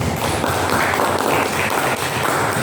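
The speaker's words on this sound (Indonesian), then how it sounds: "kita berikan aplaus dulu, tepuk tangan" A roomful of people claps steadily in a dense, continuous patter, fairly loud and close, with no speech.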